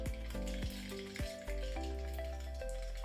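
Mustard seeds hit hot oil in a pan with a continuous close sizzling crackle, broken by a few sharp pops and the scrape of stirring, with no voices.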